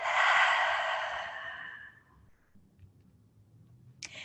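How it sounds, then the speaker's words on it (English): One full breath drawn in and then let out slowly during a relaxing stretch, a loud, close, airy exhale that fades over about two seconds into near silence, followed by a tiny click. "Confirming it by taking a full breath in and then exhaling all the way."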